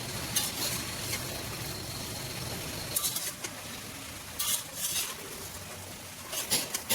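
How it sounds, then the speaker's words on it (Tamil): Carrots, cluster beans, drumstick, mango and tomato sautéing together in a large kadai, a soft continuous sizzle broken by several brief stirring scrapes and clatters. "எல்லாத்தையும் ஒன்றா சேர்த்து ஒரு 5 நிமிஷம் நல்லா வதக்கலாம்."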